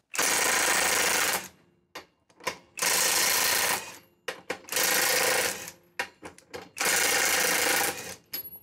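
A Parkside Performance PPDSSA 12 A1 cordless impact wrench loosens car wheel bolts in four loud, rapid hammering bursts of about a second each, separated by short clicks and trigger blips, close up with no speech.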